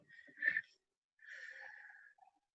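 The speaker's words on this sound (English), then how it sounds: "use your gentle breath and just slowly bring it up and down as you breathe" Two slow, gentle breaths from a person resting, a soft breath in followed after a pause by a longer, steady breath out, quiet and close.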